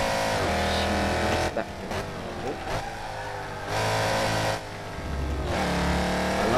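A loud Mercedes C63 AMG's deep engine and exhaust boom through a tunnel on a Tokyo freeway, surging and dipping with throttle and gear changes, heard up close.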